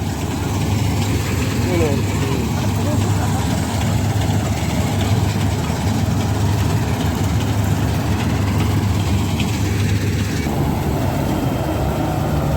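A Matharu combine harvester engine runs at a steady, loud, low rumble throughout, with people talking over the drone.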